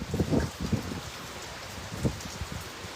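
Rain falling in Manila, a steady wash of drops with a few heavier bursts of patter close by, no voices.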